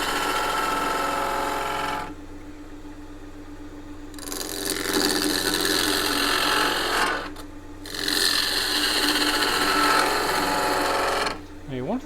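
A gouge cutting a spinning workpiece on a wood lathe: a close, steady tearing hiss over the motor hum, coming in three bursts separated by short pauses where only the lathe's drone remains.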